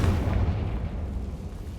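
A Confringo blasting spell in Hogwarts Legacy bursting into a deep, rumbling explosion that stays loud and slowly decays.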